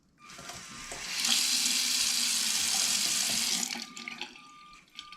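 Water running from a kitchen faucet rigged with a LEGO touchless sensor, a steady hissing stream splashing for a few seconds, then cutting off into faint drips and clicks.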